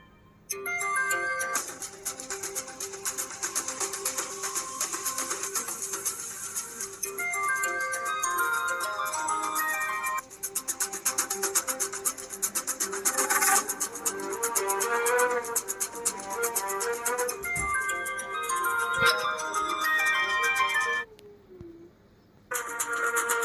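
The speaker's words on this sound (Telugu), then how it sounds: "మనోజ్ ఫోన్ చేస్తున్నాడే, లిఫ్ట్ చేయవే" An incoming call rings on a phone from a caller named Manoj, a melodic ringtone repeating its tune for about twenty seconds before a brief pause near the end.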